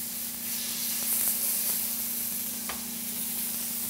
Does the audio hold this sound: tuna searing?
yes